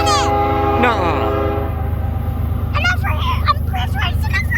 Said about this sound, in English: There's an anniversary train on it!